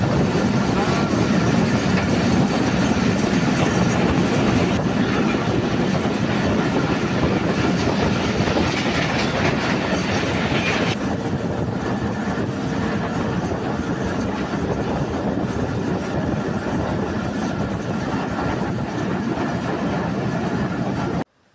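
Varendra Express train running at speed past Malanchi station, heard from on board as a loud, steady rumble and clickety-clack of wheels that continues for the whole span, with faint talking.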